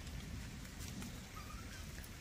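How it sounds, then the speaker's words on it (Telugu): Rain dripping steadily from the leaves of a mango tree outdoors, a dense continuous patter close by with no voices over it. "చినుకులు పడుతున్నాయండి పైన, మామిడి చెట్టు చినుకులు పడుతున్నాయి చూడండి"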